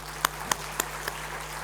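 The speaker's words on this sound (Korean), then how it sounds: "우리 박수로 축복하겠습니다" Four evenly spaced, distinct claps ring out over a steady low hum at a Korean church revival gathering, with no voices between them.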